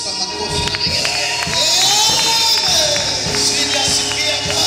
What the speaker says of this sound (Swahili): Shangilia Yesu kwa makofi na vigelegele.